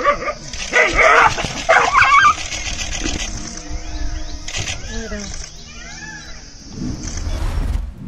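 A dog whimpers and yelps while a hungry tiger attacks it, shrill cries rising over a noisy, rumbling background with constant broadband hiss and sporadic harsh bursts throughout.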